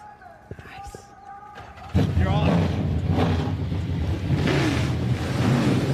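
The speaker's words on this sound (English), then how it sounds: "Drivers, start your engines!" Trans Am race cars fire up at Mid-Ohio: after a few seconds of quieter ambience, a sudden loud, sustained roar of many engines takes over and holds steady, broad and rumbling, with a voice over the track.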